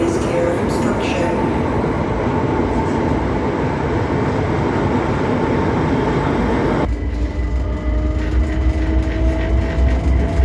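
Steady rumble of a train in motion heard from inside a carriage in London, with a muffled automated announcement about luggage racks over the constant rolling noise.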